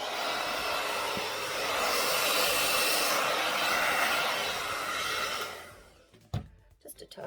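Steady breathy rush of air blown over an acrylic Dutch pour in primary colours with gold and white paint, sustained and fairly loud for about six seconds before cutting off into brief faint handling noises.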